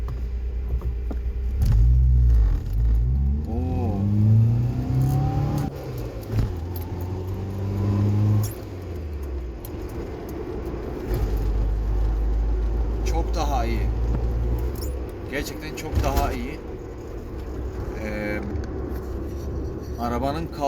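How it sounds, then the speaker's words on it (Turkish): A Lada Samara with a freshly adjusted distributor ignition advance accelerates in fourth gear from about 40–45 km/h. A steady cabin engine rumble rises in pitch, with keys jangling and bits of speech over it. "40-45 de kilometreye getirip 4. vitese atıyoruz."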